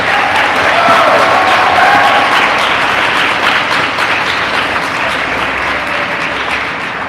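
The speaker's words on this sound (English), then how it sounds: "I would like everyone to give all the presenters a really, really big round of applause" An audience applauds the presenters at the final of an inter-secondary schools debate. The clapping is loud and sustained, with a few cheers at the start and a slight fade near the end.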